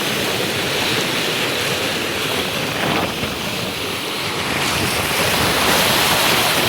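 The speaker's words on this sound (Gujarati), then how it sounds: "કેટલું પાણી જાય આમ જો કેટલું પાણી ગજબ." Heavy rushing water from a river swollen by floodwater after heavy rain, a steady loud roar filling the whole clip with wind buffeting the microphone and no voices.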